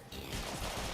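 Corpus turrets in Warframe firing a rapid burst, a dense, loud rattle of automatic shots that starts abruptly and continues without a break for about a second.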